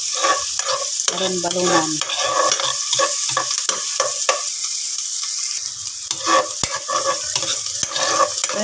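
Onion and garlic sauté in a hot pan for a home-cooked chicken liver and gizzard dish, giving a steady loud sizzle broken by scraping stirs of the spatula; one short word is spoken briefly.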